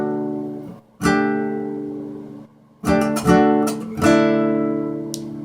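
A popular song strummed on acoustic guitar in the wrong key, heard alone as several bright chord strums separated by short pauses, each ringing and then fading.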